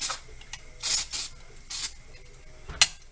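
Car cleaner is sprayed into carburetor passages in several short, sharp hissing bursts of varying length, close and fairly loud, with brief gaps between them.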